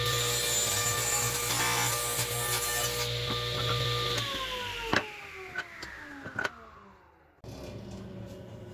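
Wooden board edges are jointed with a steady machine whine and rushing cut that slowly winds down, followed by a few sharp knocks and clatters and a brief pause before a low hum returns.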